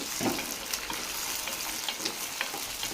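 Brinjal sautéing in sesame oil in a pan, a steady close sizzle with soft stirring scrapes running through the whole stretch, with no voice over it.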